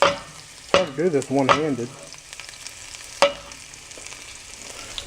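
Garlic frying in a pan while making chicken broccoli Alfredo, with brief clattering stirs and a soft sizzle in a quiet kitchen, with a nearby voice speaking briefly over it.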